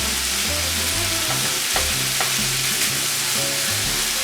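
Ground meat for sloppy joes browns in a hot pan with a steady, close sizzle, punctuated by a few scraping stirs and no talking.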